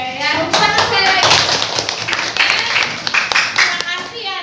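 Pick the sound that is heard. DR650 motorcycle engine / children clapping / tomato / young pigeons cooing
children clapping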